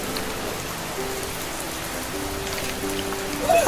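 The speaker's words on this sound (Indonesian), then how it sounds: "hujannya seger banget tau" Steady rain falls outdoors, a constant soft hiss of drops on surfaces with no talking, growing slightly louder at the very end.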